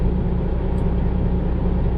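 A truck with a 10-speed transmission slowing down, a loud steady low engine and drivetrain rumble inside the cab, with no distinct gear change standing out.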